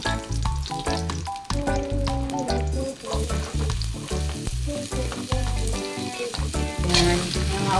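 Ingredients for ginataang sigarilyas, winged beans in coconut milk, fry in a pan with a continuous close sizzle. Stirring sounds and a tonal, rhythmic layer run underneath.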